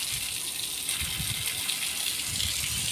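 A water spray wets freshly trimmed garden plants, including curry leaf, rose and jamun trees, in summer; a steady hissing gush runs close and unbroken throughout.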